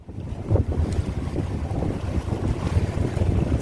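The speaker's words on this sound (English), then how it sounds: "not to put the sails up and just run the old engine" A sailboat runs under its old inboard engine with the sails down, heading in on a current. The low motor rumble is mixed with steady wind buffeting the microphone and water rushing past the hull, with no voices.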